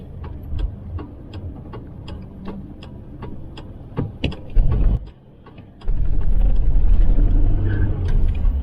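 A Volvo 240 engine idles with a low, steady rumble and faint ticking, dropping briefly before surging back louder and rougher with heavy vibration.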